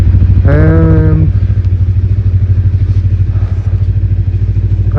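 A motorcycle ridden on a snowy road, its engine droning loudly and steadily up close with a rhythmic throb, a short rising whine near the start.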